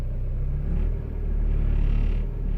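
A Mazda Miata with a manual gearbox, just jump started, idling with a low steady engine rumble that swells and eases slightly, close by and without talk.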